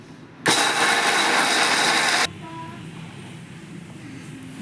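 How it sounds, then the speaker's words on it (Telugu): Mixer grinder grinding roasted peanuts, roasted gram dal and garlic cloves, a loud, close, whirring roar that starts abruptly, runs for about two seconds, then cuts off to a quiet room. "వెల్లుల్లి రెబ్బలు దీన్ని వేసి మిక్సీ పట్టుకోవాలి"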